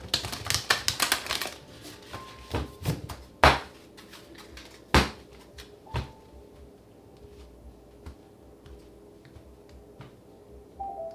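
Tarot cards are shuffled in a rapid flurry of crisp riffles, then settle into scattered taps and clicks as the deck is squared, close and fairly quiet.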